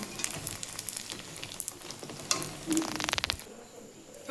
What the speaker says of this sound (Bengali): তেল দিয়ে দিয়েছি, প্রায় গরম হয়ে গেছে, এবার আমি ছেড়ে দেবো একটা একটা করে।